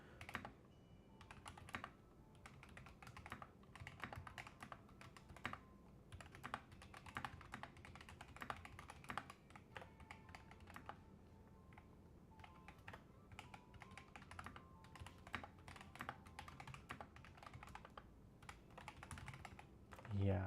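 Fast, continuous typing on a mechanical keyboard fitted with tall MSA-profile keycaps produces close, clacky keystrokes in uneven bursts with brief pauses, carrying on steadily for the whole stretch.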